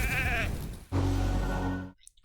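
Sheep bleating in the video game RAID: Shadow Legends, two loud close bleats, a wavering cry followed after a brief gap by a longer, fuller bleat that stops abruptly.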